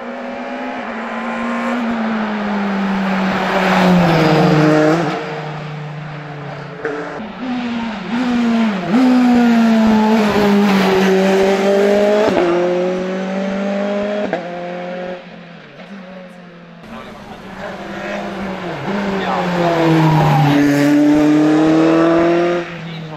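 A VW Scirocco race car climbs the Homburg hill course, its engine rising loud and close through repeated upshifts, with brief lifts between gears and a final surge of revving, no talk over it.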